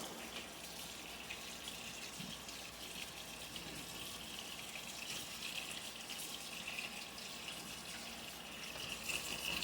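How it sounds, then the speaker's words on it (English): Tap water runs steadily while hands are scrubbed beneath it after handling peppers, a continuous close hiss and splash with faint rubbing and no talking. "And then we're going to scrub our hands again."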